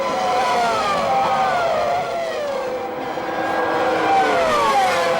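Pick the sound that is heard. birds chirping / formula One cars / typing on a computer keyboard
formula One cars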